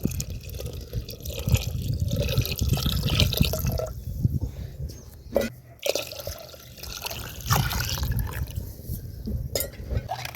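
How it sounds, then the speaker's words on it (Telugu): Water pours into a pot for cooking pappu charu dal, a close, sustained gurgling fill with dribbles and splashes that runs almost the whole time, pausing briefly partway. "నీళ్ళు వేస్తాను"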